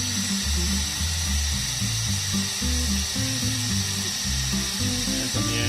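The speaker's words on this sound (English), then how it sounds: "Always keep in mind that drill maybe spins 500, 600 RPM" A handheld electric drill spinning around 500 to 600 RPM drives an oil pump to prime a Subaru engine, giving a steady, close mechanical whine with rhythmic stepped pulsing throughout, no voices.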